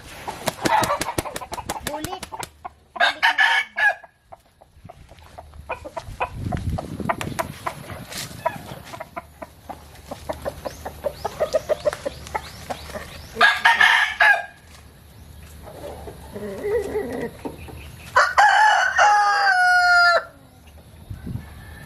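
A Talisayin fighting rooster crows several times at close range, mixed with clucking, rustling and a burst of flapping wings.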